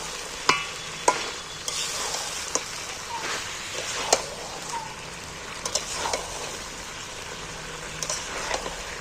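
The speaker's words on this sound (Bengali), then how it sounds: "এইবার কিন্তু আমি ভালো করে একে নাড়াচাড়া করতে হবে যেন তোলায় লেগে না যায়" Chicken and potatoes being stirred in a pan of frying spices: a steady close sizzle runs throughout, broken by repeated scraping knocks of the spoon against the pan.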